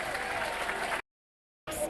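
A football crowd at a non-league FA Trophy match applauds after a goal, a brief burst of clapping and cheering that cuts off abruptly and then resumes.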